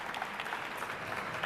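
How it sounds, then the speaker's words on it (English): An audience at a national lead climbing championship gives a burst of steady, dense applause for the event team, a brief continuous wash of clapping heard from among the crowd. "So a huge round of applause for all our team behind the scenes."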